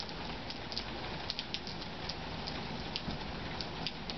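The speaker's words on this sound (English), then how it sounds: "It's raining on you." Steady rain falls outdoors in summer, a dense even patter with scattered louder drops on nearby surfaces, continuous and close, with no voices.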